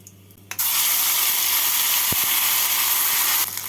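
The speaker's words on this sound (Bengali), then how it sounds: "এবার এর মধ্যে বেটে রাখা মশলাটা দিয়ে দেবো" Ground spice paste hits hot oil tempered with bay leaf, cinnamon, cardamom, cloves and cumin for an egg masala curry, bursting into a loud, steady sizzle that holds for about three seconds before dying down.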